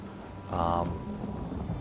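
The Sleet Storm ultimate ability in Elder Scrolls Online plays as a stormy wash of rain-like hiss with a low rumble, and a brief tonal swell rises midway before settling back into the steady storm noise.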